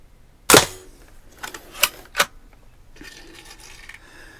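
A BB gun fires once with a sharp, loud crack, followed by two quick metallic clinks as the pellet strikes a magnet target during a St Patrick's Day shooting challenge.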